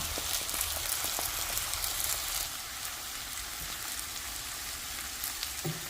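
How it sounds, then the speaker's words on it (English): Scrambled eggs fry in a pan that already holds vegetables for veggie fried rice. A bright, dense sizzle holds steady throughout, close and fairly loud, with a few faint taps. "I have my eggs scrambled. And I'm going to add them to my pan."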